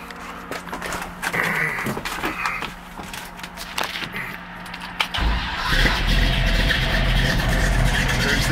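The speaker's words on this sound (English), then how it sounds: "Once you step out of there, Adam, I'm going to fire it up and do the gauges." A 1965 Mustang GT350R replica's engine cranks and catches, settling into a loud, rumbling idle close by after an earlier stretch of clattering and faint voices.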